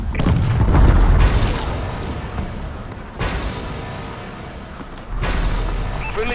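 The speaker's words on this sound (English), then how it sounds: "Enemy missile strikes incoming." Enemy missile strike explosions in Call of Duty: Advanced Warfare hardcore Kill Confirmed, three loud, close booms with long rumbling decays, each landing a couple of seconds after the last.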